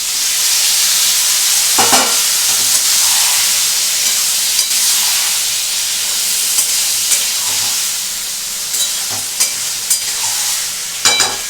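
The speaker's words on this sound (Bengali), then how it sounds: "এবার এর মধ্যে এই পনিরগুলো দিয়ে দেবো।" Paneer cubes frying in a pan for a Bengali aloo paneer curry give a steady broadband sizzle throughout, with occasional louder bursts of spattering and stirring; no voices.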